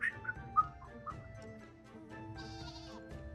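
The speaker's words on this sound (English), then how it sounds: "Just hearing the whistle." In the Final Fantasy XIV online game, a thin, sparse whistle tune plays in short, bright notes over quiet background game music, with a buzzy, kazoo-like passage near the end.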